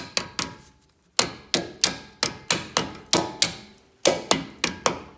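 A mallet taps brake clips and springs into place on the front brakes of a 2004-2006 Ford truck, a string of sharp metallic knocks in close bursts with one brief pause, loud and near, with no talking.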